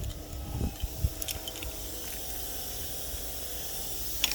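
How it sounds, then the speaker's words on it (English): A continuous airy hiss from a Volvo truck's relief valve runs throughout at low level, with a few clunks and knocks early on and a faint metallic tick near the end. "Something's hissing back there, but it might just be a relief valve."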